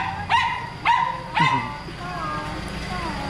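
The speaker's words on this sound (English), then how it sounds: "Where the barking dogs at?" Dogs in a Metro Manila neighborhood during a tropical storm bark three times in quick succession, close and loud, followed by softer whining tones over steady background noise.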